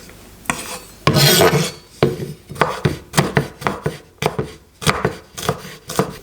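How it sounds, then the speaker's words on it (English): A knife slices through two garlic cloves on a board in a quick run of crisp, evenly spaced chopping taps, close and clear, with no voices. "I start with slicing 2 cloves of garlic."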